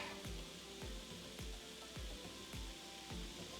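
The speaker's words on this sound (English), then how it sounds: "Stir and let those simmer for a minute or two." Caramelized onions simmer with beer in a pan, a soft constant sizzle broken by regular low thumps about every half second as they are stirred.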